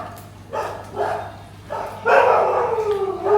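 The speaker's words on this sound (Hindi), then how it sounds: "कुत्ते भी भौंक रहे हैं।" Dogs bark and howl in several drawn-out bursts, somewhat distant, over a steady background hiss and low hum during heavy rain.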